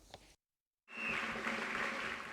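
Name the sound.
applause and cheers at graduation ceremony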